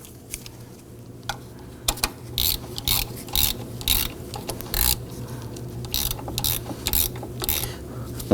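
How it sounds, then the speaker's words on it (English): A ratchet tightens the tensioner bolt on a 2005–2009 Subaru Legacy 2.5L engine, producing close, repeated clicking bursts in an uneven rhythm with a faint background hum and no speech. "let's go ahead and tighten down the bolt to secure it"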